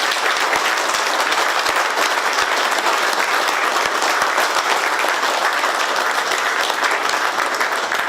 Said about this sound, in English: let's applaud them with all of our hearts